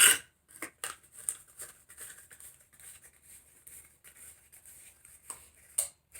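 Scissors cutting coral deco mesh ribbon for a Home Sweet Home wreath, a series of quiet, crisp snips close by, with a sharper cut at the start and another near the end.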